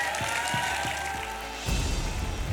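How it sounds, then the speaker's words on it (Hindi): Audience applause for a pair of contestants on the TV reality show India's Best Judwaah, a steady wash of clapping with music and low thumps underneath that swells louder near the end. "जोरदार तालियां काजल और सिमरन के लिए।"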